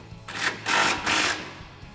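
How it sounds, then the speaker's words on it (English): A ratchet or power tool turning a 17mm deep socket to tighten an exhaust isolator nut on a 2009-2018 Silverado/Sierra, in two short buzzing bursts, close and fairly loud, with no talking. "Now you can grab your 17mm deep socket and tighten this down."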